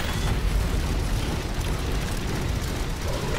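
Grenade blast in the sci-fi shooter Aliens: Fireteam Elite, a dense, loud rumbling roar that fills the whole moment with no pause.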